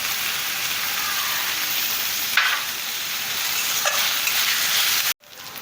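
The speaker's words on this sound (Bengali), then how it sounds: "টমেটো কুচিটা এর সাথে ভালো করে ভেজে নেব" Chopped tomato frying in a pan with onion for an egg curry, a steady crackling sizzle held close, with a couple of brief stirring scrapes before a sudden cut near the end.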